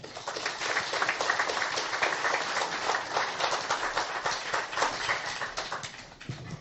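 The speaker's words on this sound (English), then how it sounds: "Please a big round of applause for Dr. Alfredo Mahar Francisco A. Lagman" A meeting audience gives a speaker a big round of applause, a loud, dense wash of clapping sustained evenly throughout before thinning slightly at the close.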